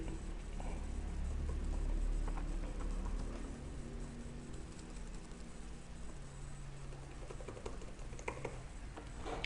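Computer keyboard typing as an email address is entered, quiet irregular clicks and taps spread across several seconds over a low background hum, with no speech.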